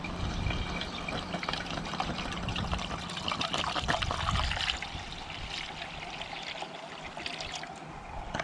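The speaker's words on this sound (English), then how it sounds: "the first step is to take the apple juice, put it in the carboy." Apple juice pours steadily into a carboy, a continuous close splashing gush that eases into a softer trickle partway through.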